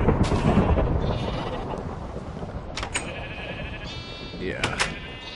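Baby sheep bleating in Minecraft, several short wavering bleats in the latter half over a noisy background with a voice murmuring underneath.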